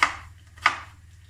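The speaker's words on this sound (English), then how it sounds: "So this I'm going to finely slice as well." A knife finely slices food on a plastic chopping board in holiday accommodation, two crisp, close cuts about half a second apart with quiet pauses between.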